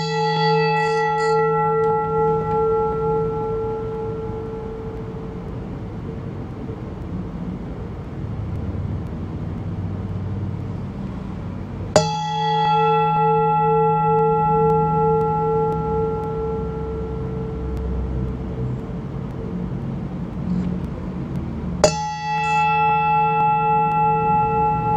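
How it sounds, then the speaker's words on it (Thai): Bell struck three times, each a bright metallic clang with a long ringing harmonic decay lasting ten seconds or more, loud and alone over a low background hum. "ตีระฆังเป่านกหวีดปี๊ด"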